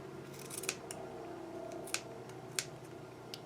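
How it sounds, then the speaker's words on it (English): Scissors snip into the edges of a cone while making rolled ribbon roses: a few sharp, close, separate cuts spaced unevenly over a quiet, steady background hum. "I'm going to take my cone, and I'm going to cut into these edges"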